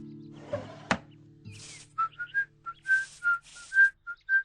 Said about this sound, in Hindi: सीटी बजाते हुए कोई लेटेस्ट फिल्मी गाना थोड़ा सुर में थोड़ा बेसुरा गुनगुनाते हुए